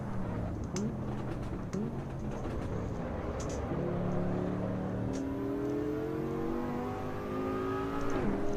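Ford Ranger with a 3.2 litre five-cylinder engine in the Assetto Corsa EVO racing game, its harmonic engine drone rising and falling through gear changes, then climbing steadily in a long rev build, with faint clicks over a constant level.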